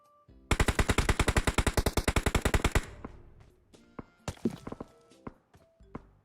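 Automatic gunfire in PUBG Mobile rattles off in a rapid burst of about two dozen sharp shots, then breaks into scattered single shots and thuds, loud and close.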